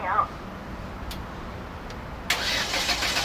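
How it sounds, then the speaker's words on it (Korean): An LPG forklift engine is started with the key: brief faint ticks, then at about two seconds the engine catches and settles into a steady idle that runs to the end. No one speaks. "자, 시동 한번 걸어 보겠습니다."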